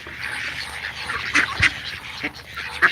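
Ducks quack at feeding time, several short nasal calls close by in a lively cluster over a background murmur.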